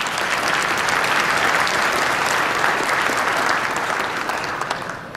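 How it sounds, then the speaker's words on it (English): Loud sustained applause from a crowd honouring Betty at an Ontario PC party event, a thick continuous wash of clapping that tapers slightly at the end. "you deserve a round of applause for your dedication"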